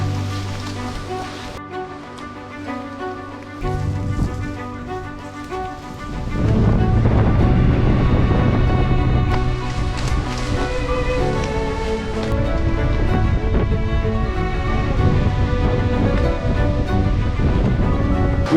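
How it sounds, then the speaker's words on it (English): Strong, steady wind roaring through a valley in the rugged Cape Breton backcountry mountains of Nova Scotia, a loud continuous broadband rush that swells and stays heavy throughout, with no talking. "You probably can't hear me over the wind"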